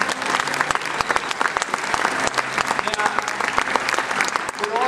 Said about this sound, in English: I reckon a big round of applause for yourselves.